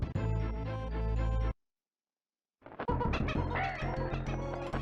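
Krow, the giant crow boss in Donkey Kong Country 2, squawks through game music in two loud bursts with a brief silent gap between, rasping fowl-like cries over a dense layered backing.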